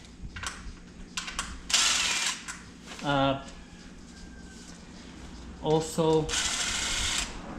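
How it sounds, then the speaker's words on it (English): A hand ratchet on a socket clicks in short bursts while 10 millimeter bolts are loosened on an engine job for a 1971 Dodge Challenger R/T, near and fairly faint, with a brief spoken word between. "I broke them loose with the ratchet."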